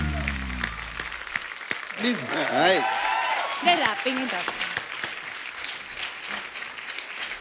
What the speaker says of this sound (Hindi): एक बार आरआरआर की पूरी टीम के लिए जोरदार तालियां